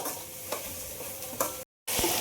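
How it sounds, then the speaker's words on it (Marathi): Tomato-onion paste being stirred and sautéed in a kadhai over medium heat for Maharashtrian baingan masala: a loud, close sizzle with periodic scraping strokes of the spoon, then a brief drop to silence before the frying resumes. "जी टमाटा आणि कांद्याची पेस्ट केलेली आहे ती टाकूया आणि या गिरवीला छान आपण असं परतून घेऊया।"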